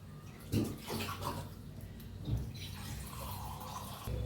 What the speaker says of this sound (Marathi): आता पनीरला स्वच्छ धुवून घेऊया